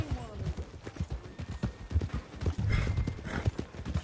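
Horse hooves clip-clop steadily at close range in Red Dead Redemption 2, a brisk rhythmic walk with occasional whinnies, while a voice talks over the hoofbeats.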